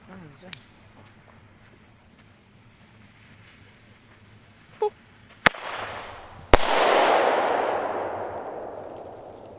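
Two sharp, loud firecracker bangs in quick succession, the second followed by a long hissing crackle that slowly fades, with faint voices in the background.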